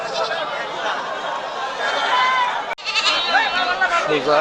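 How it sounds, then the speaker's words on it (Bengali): Black Bengal goats bleat repeatedly at a crowded goat market at Chatmohar Rail Bazar, with steady crowd chatter and voices throughout and a brief knock near the middle. "ঐতিহাসিক ব্ল্যাক বেঙ্গল ছাগলের হাটে দেখেন আর পিছনে অসংখ্য ছাগল দেখা যাচ্ছে"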